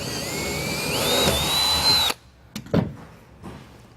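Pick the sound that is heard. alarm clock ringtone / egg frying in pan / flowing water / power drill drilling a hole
power drill drilling a hole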